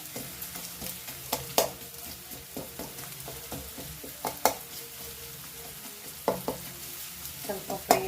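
Semolina frying in ghee in a pan for upma, a soft continuous sizzle broken by regular scraping clicks of a spoon stirring against the metal, close and fairly quiet, no speech.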